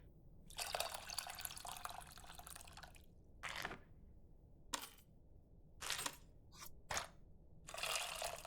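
Tamarind water runs through a kitchen sieve in separate hissing pours and splashes, with one long stream followed by several short bursts separated by quiet gaps, close and fairly soft, with no talking.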